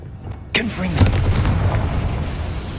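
A Confringo fire-blast spell in Hogwarts Legacy goes off as one sudden booming burst, then a roaring fiery tail fades slowly over a low rumble.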